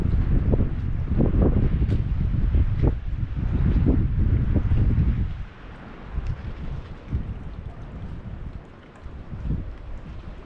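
Strong gusting wind buffets the microphone, loud and rumbling, easing somewhat halfway through but continuing steadily to the end.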